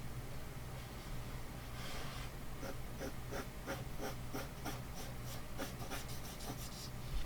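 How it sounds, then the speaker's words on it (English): A pen or pencil drawing a line across paper gives a run of soft, rhythmic scratchy strokes, faint against a steady background hiss. "Now I'm going to draw a line."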